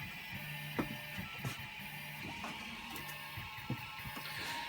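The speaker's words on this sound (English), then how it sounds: "It's just my printer starting up again there." Home printer starting up in a workshop, quiet steady mechanical whir with a low hum and periodic clicks and soft thumps, faint and continuous with no talk.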